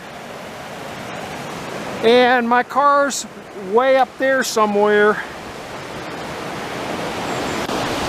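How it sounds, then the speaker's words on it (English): The Rose River in Shenandoah National Park flows with a steady broadband rush of water throughout, moderately loud and close, while someone talks briefly over it in the middle. "I'm down at the Rose River"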